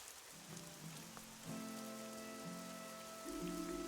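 Rain falling in the video game Fall of Porcupine, a soft steady patter beneath a low sustained musical drone, faint and continuous without talk.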